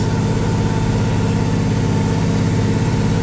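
An old Henniker 1300 tractor engine idles steadily from inside the cab during haying, a loud constant low rumble with even vibration and no pauses.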